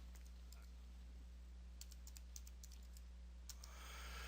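Computer keyboard typing in a short burst of a few light key taps, close but faint over a low steady hum, no talking.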